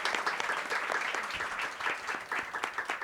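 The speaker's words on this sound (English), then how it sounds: "can I get a big round of applause for our speakers tonight?" Audience applause for speakers at a debate event on whether TikTok is the new Instagram, a steady dense wash of many hands clapping close and loud, with no talk over it.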